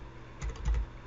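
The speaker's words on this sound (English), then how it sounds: "I'll start typing" Typing on a computer keyboard gives a few quick, soft key clicks in a short cluster against a quiet background.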